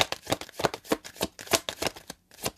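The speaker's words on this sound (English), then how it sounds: "I'm just going to shuffle through an entire time with this deck" A deck of playing cards shuffled rapidly over and over, crisp riffling bursts repeating in a quick steady rhythm, close and fairly loud with no talking.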